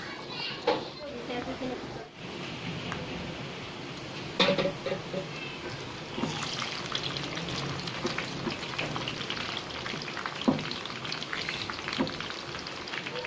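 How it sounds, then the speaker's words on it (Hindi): Onions sizzle steadily in hot oil, with occasional stirring clinks from a pan and a voice talking over the cooking. "प्याज डाल के इसको मैंने लाइट गोल्डन ब्राउन करने हैं"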